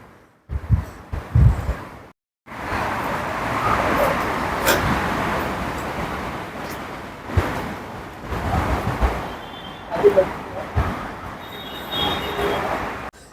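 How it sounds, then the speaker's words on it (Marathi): A car passes through an underground subway passage in Mumbai, its engine and tyre roar rising to a steady rumble that fills the space, echoing loudly and close, with no talk. "ती बघा गाडी ती बघा गेली भुयारी मार्गाने गाडी"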